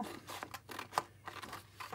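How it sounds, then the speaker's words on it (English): Scissors snipping through paper card for a model railway signal box, a quick series of soft crisp cuts in a quiet room, close and fairly faint. "I'm just going to use scissors for this"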